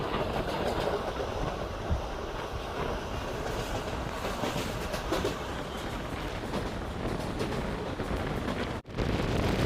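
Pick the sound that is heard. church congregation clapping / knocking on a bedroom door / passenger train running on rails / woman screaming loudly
passenger train running on rails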